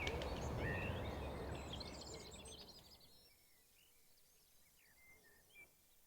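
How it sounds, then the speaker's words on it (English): Birds sing at a garden allotment, faint chirps and short whistled phrases over a soft outdoor hush, clearer once a louder rustling background fades after a few seconds. "Bird song is glorious."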